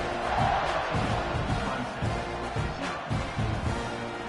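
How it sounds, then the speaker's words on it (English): Dense crowd noise fills a college football stadium just before a kickoff, a steady roar of many voices with scattered shouts rising and falling throughout. "this crowd now ready to get behind them"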